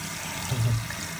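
Water from a small hotel shower runs as a steady hiss, close by and alone, with a brief low gurgle near the middle.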